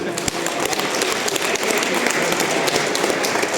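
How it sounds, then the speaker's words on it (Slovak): A hall audience at a national robotics competition final applauds a project presentation, producing sustained, dense clapping that stays steady and fairly loud throughout. "Myslím si, že si zaslúžite ešte jeden veľký potlesk."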